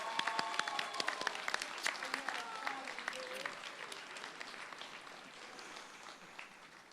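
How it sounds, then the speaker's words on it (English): Applause at a 2021 Rooted School graduation ceremony in New Orleans, dense clapping from a large crowd that starts strong and gradually thins and fades over several seconds. "Please give them a round of applause."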